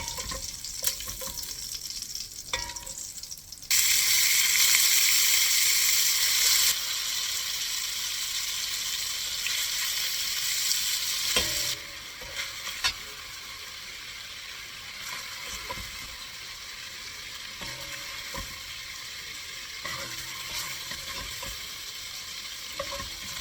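Beef sausages sizzle loudly in a pot for chicken and sausage corn gumbo, with a steady bright frying hiss and occasional stirring scrapes; the sizzle surges early, then settles to a lower, continuous crackle.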